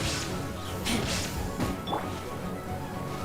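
In the game Genshin Impact, an illusion shatters with a crashing, breaking burst followed by scattered glassy fragments, set against dense game noise and background battle sounds.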